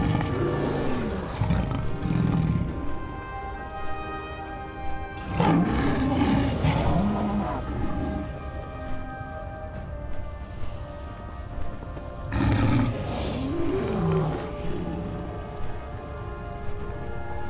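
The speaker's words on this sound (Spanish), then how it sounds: "Ahí pudimos escuchar un par de otros rugidos de Guardián Alado." The Winged Guardian creature of a video game gives a couple of deep, drawn-out roars, each swelling over a few seconds above a steady rain-like hiss.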